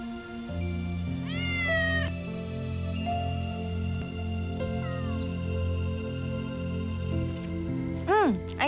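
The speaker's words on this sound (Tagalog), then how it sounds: "Yung pusa, dinidikit yung katawan niya sa binti ko." A cat meows several times over steady background music, with rising drawn-out calls near the start and a sharper meow toward the end.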